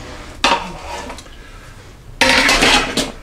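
Metal pizza pans clatter and scrape as they are picked up and handled in a home kitchen, two loud bursts separated by a quieter stretch, with no talking.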